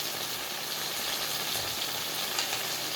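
Beef and bitter melon with black bean sauce and a pinch of sugar frying in a hot pan give off a steady, close, dense sizzle with crackling pops throughout, no voices.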